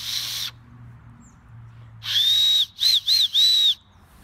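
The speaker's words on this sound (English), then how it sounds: "One fun thing that you can do with acorn caps is you take it and you can whistle." A whistle blown through an acorn cap held between the thumbs gives a loud, shrill tone, first one long steady note, then three short bursts and a final longer blast, alone with no talk.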